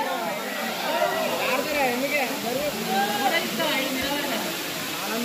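Water pouring at Bimunipadam waterfall: a continuous broadband rush of flowing water, steady and fairly loud, with voices and shouts of people mixed in over it.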